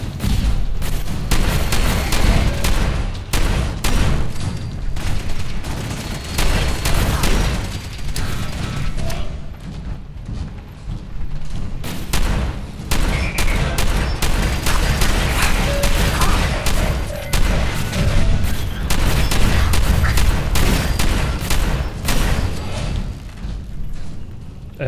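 Rapid bursts of Fallout 4 gunfire crack and boom continuously amid mechanical clanks and crashes, a dense, loud barrage with no pauses.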